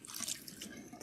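Tap water runs briefly while hair is being rinsed, a soft, splashy stream of flow and drips heard alone at low volume.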